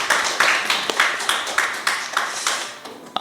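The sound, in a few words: congregation applauding in welcome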